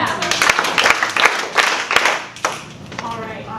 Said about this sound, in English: All right, 5 claps in the snap.